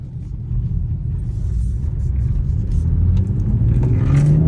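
BMW M440i with a resonator delete accelerating hard, deep rumbling engine and exhaust note building steadily louder as the revs climb, heard from inside the car.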